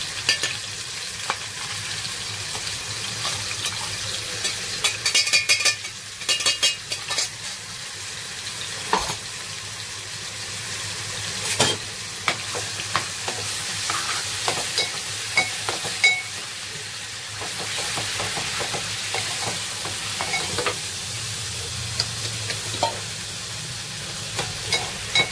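Coconut, red chili and garlic masala paste frying and being stirred in a pan for a prawn and mushroom curry, giving a steady, loud, close sizzle with scraping stir strokes throughout and no talking.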